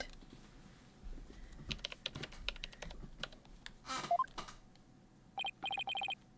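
Keyboard typing sound effect from the courtroom video game Ace Attorney: Spirit of Justice, a run of quick irregular clicks followed by a series of bright repeating electronic beeps, fairly clear with no talking.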